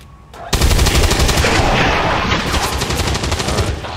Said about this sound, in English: I'll shoot him, man.